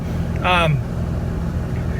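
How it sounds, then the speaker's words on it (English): A Dodge truck engine idles steadily with a low, even rumble throughout, and a brief voice rises over it near the start. "I'm going to let the truck run here."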